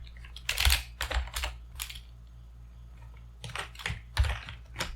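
Keys clack on a computer keyboard while working in the Godot game engine, a close, quiet series of separate taps in two clusters with a short pause between, and no talking.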